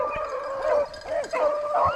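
Hunting dog baying along a rabbit trail during a rabbit hunt, with several drawn-out howling bays rising and falling close by across the whole stretch.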